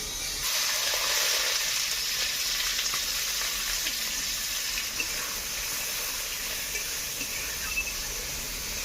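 Black cumin and boiled cauliflower leaves fry in mustard oil in a hot wok, giving a steady, dense sizzle that runs unbroken and loud throughout, with no voices.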